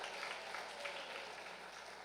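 A church congregation claps in praise during a Portuguese-language sermon, a dense, continuous, fairly quiet wash of many hands heard from a distance.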